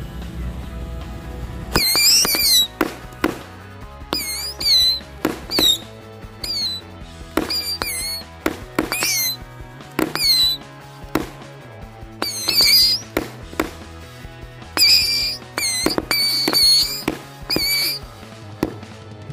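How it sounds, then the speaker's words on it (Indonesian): A Patriot 25-shot firecracker fires a long series of sharp, loud bangs with shrill whistling squeals, bursting in irregular clusters over about twenty seconds with brief gaps between volleys. "Selanjutnya ini mercon patriot 25 lesutan. Kita cobain aja langsung."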